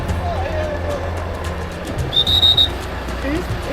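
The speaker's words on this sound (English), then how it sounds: "Who's whistling?" A short, high whistle from a person rings out once over steady road rumble while people chat in the background.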